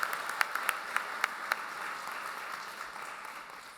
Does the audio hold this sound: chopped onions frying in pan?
no